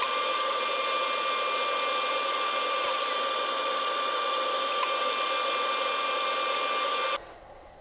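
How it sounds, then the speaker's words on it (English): Table saw running continuously while crosscutting wood pieces to length on a crosscut sled, a loud steady motor whine with a faint bump as the blade passes through, then cutting off abruptly near the end. "Before I rip these, since I have my crosscut sled here, I'm just gonna go ahead and cut them to length."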